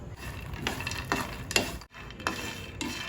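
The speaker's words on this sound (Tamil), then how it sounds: "இப்போ இந்த பட்டரில் இந்த விதையை ட்ரை ரோஸ்ட் பண்ணி எடுத்துக்கலாங்க." Lotus seeds (makhana) dry roasting in butter in a pan, stirred with a few distinct scraping and rattling strokes over a faint sizzle, close and moderately quiet.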